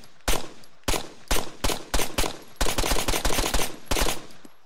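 A pistol fired in the video game ArmA III, loud close single shots spaced irregularly at first, then a fast run of rapid shots, ending with a few more.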